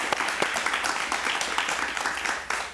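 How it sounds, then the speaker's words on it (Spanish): An audience claps warmly, a dense burst of applause from many hands with a few louder individual claps standing out. "lo recibimos con un aplauso muy cariñoso"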